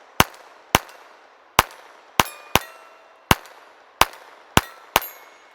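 Nine sharp, cracking reports from a Ruger LCP II pistol chambered in .22 LR, fired one at a time in an uneven rhythm with short ringing tails and no talk between shots.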